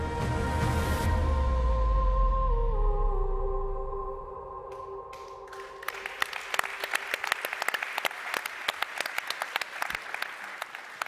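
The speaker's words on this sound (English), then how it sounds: "A deserved round of applause there for Visma" Applause from an audience breaks out at a cycling team presentation, starting after fading music and building into steady dense clapping that continues to the end.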